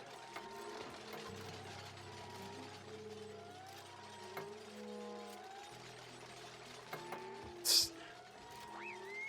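Tiles being built and replaced in the colony game Oxygen Not Included: a run of soft mechanical clicks and ratcheting taps over a low steady game hum, with one brief sharper chirp near the end.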